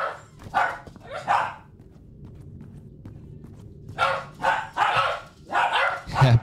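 A dog barks in several short bursts, a pair near the start and a longer run of barks later, with a quiet stretch between them.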